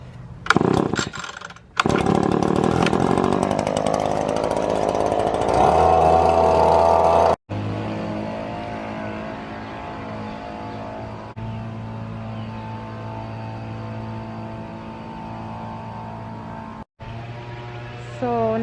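A gas leaf blower clears grass clippings after mowing, its engine droning loud and close, surging in pitch, briefly cutting out, then settling into a steadier idle-like roar.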